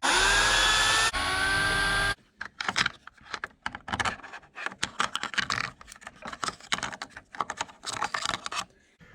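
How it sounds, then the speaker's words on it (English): Gear cover screws come out of a Traxxas X-Maxx, with a brief power-tool whir at the start followed by a run of quick, close clicks and taps from the tool and hardware. "I'll go ahead and remove the two screws for the gear cover"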